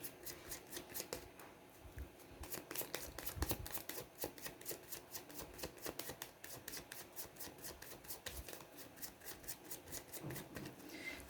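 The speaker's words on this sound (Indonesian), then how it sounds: "Saya ambil 5 kartu." Tarot cards are shuffled in a rapid, steady riffle of soft clicks up close, with occasional brushing as cards are handled and drawn.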